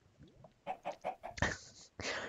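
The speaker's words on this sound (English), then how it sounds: "look at the chickens, they're just bawling" Chickens in a video game give a quick series of rhythmic clucks that build into a louder, harsher squawk, then a second squawk, near and clear with no speech.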